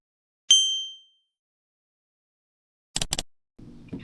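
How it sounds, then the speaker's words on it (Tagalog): A single bright bell ding rings out and decays over about half a second, followed after silence by a couple of short clicks and faint rustling. "turn on the notification bell."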